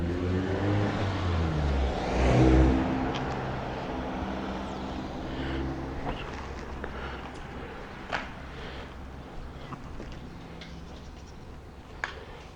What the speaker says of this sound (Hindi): ताकि गाड़ी को अंदर मूव कर सकें हम गैराज में।